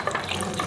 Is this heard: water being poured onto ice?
yes